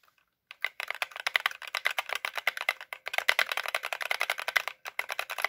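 Rapid, crisp clicking of a mechanical keyboard being typed on, steady and close, after a brief moment of silence.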